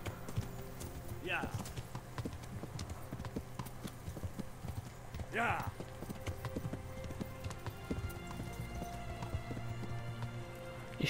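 Horse hooves clip-clop steadily at a riding pace across open country in the medieval video game Kingdom Come Deliverance, with someone talking over the rhythmic hoofbeats.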